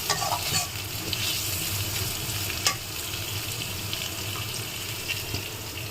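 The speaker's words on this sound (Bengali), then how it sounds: "শুকনো মরিচ আর রসুন থাকানো আর দিয়ে দিচ্ছি পেঁয়াজ।" Onion frying in oil with dried chili and garlic in a big batch for fifty people, a loud continuous sizzle with stirring scrapes and a few sharp clanks, running water faintly behind.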